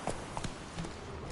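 Hooves of the horse Roach clip-clopping in The Witcher video game, a few quick soft hoofbeats at a moderate distance under a quiet background.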